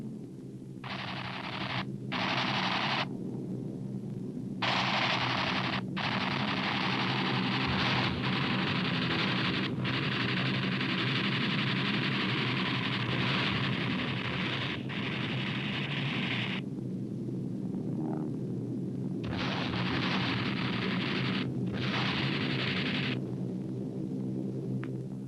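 Gunfire and explosions from a 1945 B-25 bomber air attack on a Borneo airfield, carried as a dense, constant roar with bursts of machine-gun rattle, loud and unbroken throughout.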